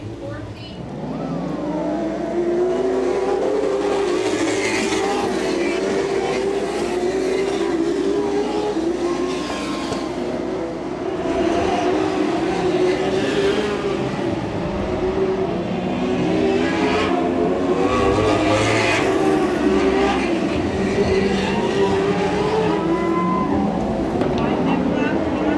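Midget B race cars circle a dirt track on the final lap, engines droning and rising and falling as they pass, with a loud, steady roar throughout while an announcer talks over it.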